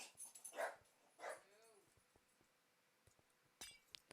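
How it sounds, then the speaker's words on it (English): A dog barks and whimpers faintly in the background of a quiet indoor room, two short yelps early on, with a glassy clink near the end. "Sorry about the dog in the background."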